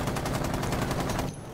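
A rapid burst of automatic gunfire in a first-person shooter rattles loud and close for over a second, then cuts off abruptly.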